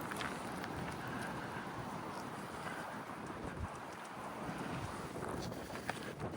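Steady, broadband wind rushing and buffeting the microphone throughout outside Northbrook Court mall, loud and constant with no talking.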